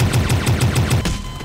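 Automatic gunfire in Garry's Mod, a rapid, evenly spaced burst of about seven loud, close shots that stops abruptly, leaving a brief ringing tail.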